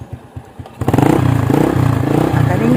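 A motorcycle engine running steadily while riding, a close, loud, even drone that starts after a brief stretch of quieter rattling and clatter.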